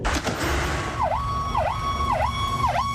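Emergency vehicle sirens wail in a repeating up-and-down pattern during a national strike in Cotacachi, Ecuador, loud and close, cycling about four times over steady background traffic noise.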